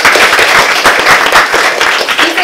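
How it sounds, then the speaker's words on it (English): Audience applause at a speech club evaluation session: dense, steady clapping from a room full of people, fairly close and continuous for a couple of seconds with no voices over it. "So please give them another round of applause for all that."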